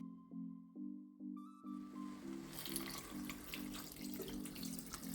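Water is poured into a pan of prawn and egg curry, starting as a few rhythmic tonal gurgles and then turning into a steady, fairly close splashing rush with no voices.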